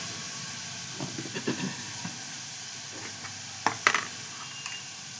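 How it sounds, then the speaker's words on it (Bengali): Turmeric goes into a pan of frying pointed gourd, and a soft steady hiss of sizzling oil swells into a few brief sharper bursts near the end, with no talking. "এর মধ্যে একটু হলুদ দেবো"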